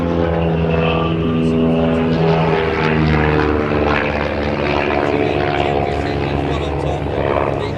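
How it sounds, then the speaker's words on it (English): A Titans aerobatic display team aircraft performs a hesitation half Cuban manoeuvre at the Abingdon 2023 air show. Its propeller engine drones loud and steady the whole time, with faint commentary voices underneath. "Pulling up now for a hesitation half Cuban manoeuvre"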